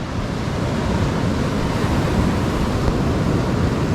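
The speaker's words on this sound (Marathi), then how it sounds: "तिकडून बघताय ती एक नदी येते आणि या बाजूला समुद्र आहे ह्या दोन्हीचा इथं संगम होतो" Sea surf roars steadily at the Devbag river-sea confluence on the Konkan coast, a dense, loud, continuous wash of breaking waves with wind noise on the microphone.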